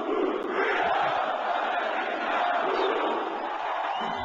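A large seminar audience chants together in unison, a loud, continuous crowd roar with rhythmic swells, bandlimited as if recorded through a broadcast or phone line.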